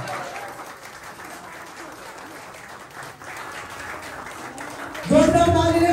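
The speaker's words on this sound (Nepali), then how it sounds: "जोरदार तालीले स्वागत गरिदिनु हुन म विनम्र अनुरोध गर्दछु" A hall audience at a Tamang community Buddha Jayanti celebration in Abu Dhabi applauds in a steady wash of clapping, and a loud voice cuts in near the end.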